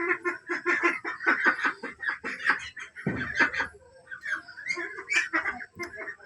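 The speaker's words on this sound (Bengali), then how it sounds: "এগুলো হচ্ছে আমার শখের হাঁস।" Pet ducks quack in quick, repeated bursts close by, the calls overlapping in an uneven chattering rhythm with short pauses.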